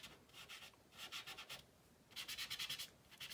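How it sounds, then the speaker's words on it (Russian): Soft rubbing of a finger blending pastel across paper while a cat is drawn, coming in three bursts of quick back-and-forth strokes, the last one longest and strongest, with faint room hiss between them. "Смело, откровенно берем и пальцем везде возим."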